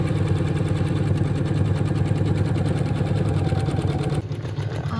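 A Usha 550 embroidery machine stitching, a loud close rapid mechanical rattle with a steady rhythmic chatter that shifts pitch slightly near the end.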